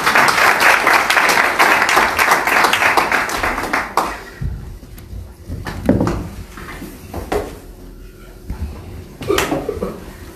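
A church congregation applauds with dense, loud clapping that fades after about four seconds into scattered claps and knocks.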